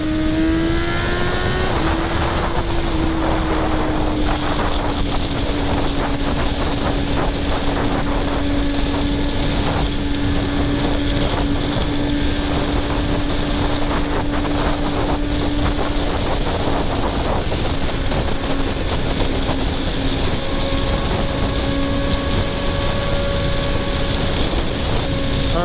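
Superbike engine droning steadily at sustained high revs while riding through canyons, loud and close with heavy wind rush over the microphone throughout, pitch dipping slightly as it shifts.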